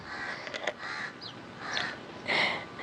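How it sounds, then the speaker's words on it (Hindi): A crow caws several times in short separate calls, fairly near and clear against a faint background hiss, with no talking over it. "यहाँ पे हमारे कौवा महाराज चुप नहीं कर रहे हैं"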